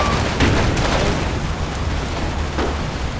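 Grenade explosion in the Combat Mission: Final Blitzkrieg war game, a loud blast early on followed by continuous rumbling battle noise and a second burst later, all dense and close.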